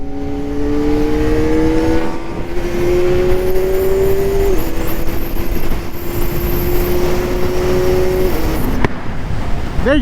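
A 2024 Kawasaki Ninja ZX-4RR motorcycle engine while riding, its high tone rising steadily through the gears with sudden drops at shifts, loud and close under constant wind rush.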